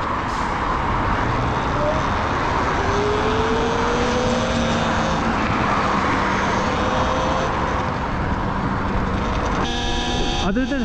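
A Talaria XXX electric dirt bike being ridden gives a loud, droning motor whine that rises and falls over a constant rush of wind noise, with a sharper burst near the end.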